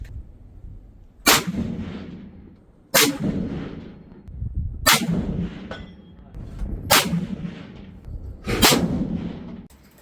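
Five loud, sharp Mosin Nagant rifle shots firing 7.62x54R rounds at a range, spaced about two seconds apart, each followed by a booming echo and rumbling tail.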